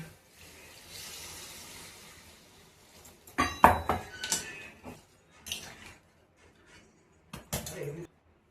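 A cooking pot on a home stove, holding soya chunks simmering in spiced gravy, is covered with its lid: a few sharp metallic clanks and clinks, close and fairly loud, in separate bursts with quiet gaps between.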